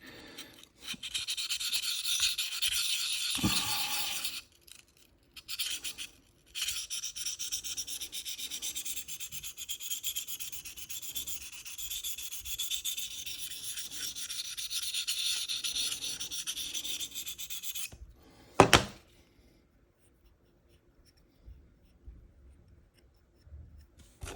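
A knife blade is rubbed repeatedly across a Sharpal field sharpener in long, steady abrasive strokes, close and continuous, broken by brief pauses and a sharp knock before near-silence.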